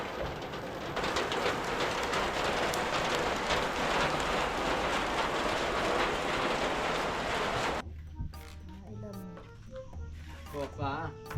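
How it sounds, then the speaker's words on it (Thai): Heavy rain pours in a steady dense hiss for most of the clip, then cuts away to a quieter scene with voices talking over faint background rain. "ฝนตกแล้ว"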